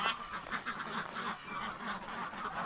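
Several ducks quack in a steady chattering chorus beside a clear pond, moderately close and fairly quiet, with no talking.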